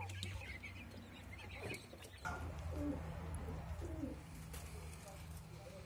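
Pigeons, including racing-pigeon crosses, coo softly and repeatedly in a coop at evening alongside other poultry, low murmuring calls close by with faint rustling and a brief voice in the background.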